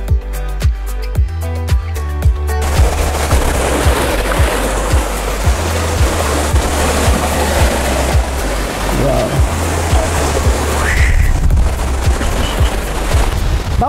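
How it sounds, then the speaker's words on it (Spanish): A waterfall pours in the Piura highlands, a loud continuous rushing roar of falling water, preceded at the start by a short stretch of rhythmic thumping beats. "escuchen el sonido de la cascada, esto es realmente increíble"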